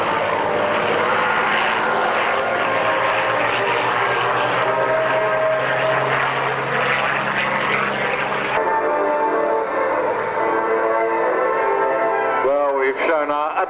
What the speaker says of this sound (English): here come the P-40s